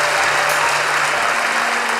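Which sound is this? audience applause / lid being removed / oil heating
audience applause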